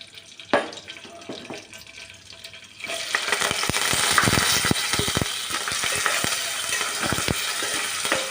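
Quiet clinks for a few seconds, then a loud, steady sizzle of tempering spices (garlic, onion, dried red chilies, seeds) frying in hot oil with occasional sharp crackles.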